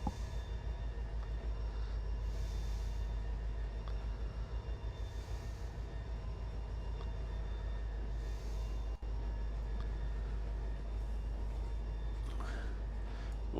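A train runs on the tracks in the Trainz railway simulator game with a steady low rumble and rhythmic clicking of the wheels. A single sharp clunk comes partway through, and it sounds alone and fairly quiet.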